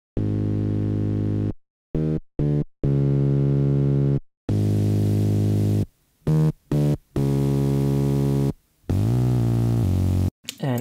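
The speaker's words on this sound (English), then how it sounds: "Then we have our bass." A bass recorded onto a 1988 cassette tape deck sounds deep, steady sustained notes, some long and some in quick choppy bursts, broken by abrupt silent gaps.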